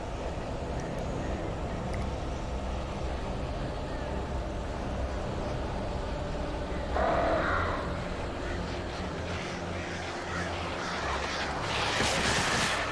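Crows caw in the Alan Wake video game, harsh calls rising over a dense rumbling ambient bed, with a flurry of fluttering noise near the end and a voice speaking faintly underneath.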